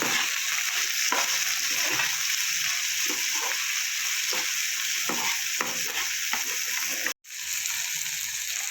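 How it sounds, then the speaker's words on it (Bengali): Onion, garlic and tomato fry for a fish curry, giving a dense, continuous sizzle close up with rhythmic stirring scrapes, loud and steady, broken by a brief cut near the end, and no voices. "পেঁয়াজ, রসুন, টমেটোটা ভাজা ভাজা হয়ে গেছে।"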